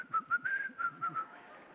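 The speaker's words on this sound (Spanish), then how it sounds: "comienza a silbar" A person whistles a short run of steady, high notes broken into quick pulses, with a faint low fluttering underneath; it is fairly quiet and brief.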